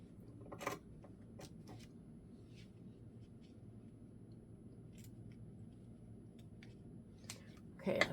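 Scissors snip through a paper book dust jacket in a few sharp, faint cuts spaced apart, with near-silence between them.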